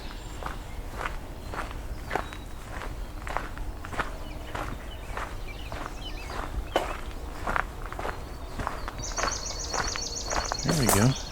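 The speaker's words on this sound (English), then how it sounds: "It's that ringing, ding, ding, ding, ding, ding, ding, ding kind of thing." A swamp sparrow gives a brief ringing trill of rapid repeated notes near the end, heard over steady nearby footsteps, with a person speaking quietly.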